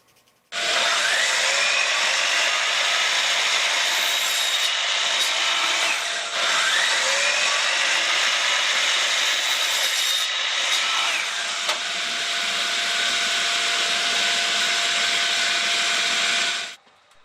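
Trim pieces for beveled siding being cut to size with a power saw, a steady close whine running through about sixteen seconds with two short pauses between passes, no voices.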